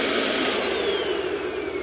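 A Xiaomi SWDK KC301 wired dust mite vacuum cleaner with UV runs its motor steadily and loudly, a close continuous whine with a faint descending tone throughout and no talking.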